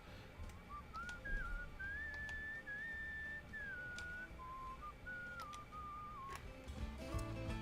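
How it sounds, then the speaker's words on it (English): A melodic whistled tune with sliding, wandering notes plays in the video game Where the Water Tastes Like Wine, set over a quiet background with faint ticking clicks. "you really do walk faster by playing the whistling game"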